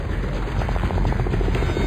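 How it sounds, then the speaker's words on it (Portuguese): A rescue helicopter flies over during a volcanic eruption on Montserrat, its rotor a loud, steady, close whir with rapid beating throughout. "um corajoso resgate de helicóptero tem início"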